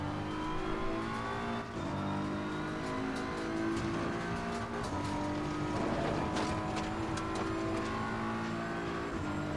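A race car in the sim game Assetto Corsa Competizione laps the Nordschleife, engine droning and shifting pitch with revving and gear changes, steady and loud throughout without talk.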